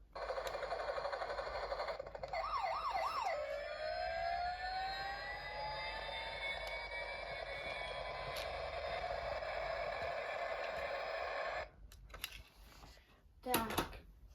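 A Lego toy gives an electronic siren: a wailing, rising and falling tone, then a steady high tone held for several seconds before it cuts off, followed by a few clicks and rattles up close.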